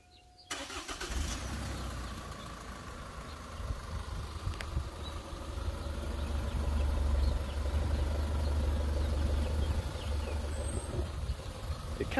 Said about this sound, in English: It kind of ticks a little bit on startup, but sounds like a diesel.